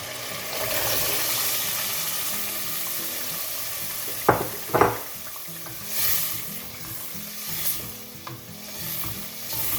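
Chickpeas tipped into a hot pan for Pakistani cholay ka salan, a steady loud sizzle with a couple of sharp stirring knocks midway and softer bursts after.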